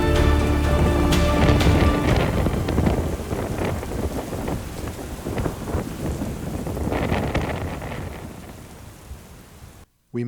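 Rain and wind from a thunderstorm at Death's Door Passage roar continuously with scattered sharp drop impacts and low rumbling, fairly loud and close, cutting out abruptly near the end.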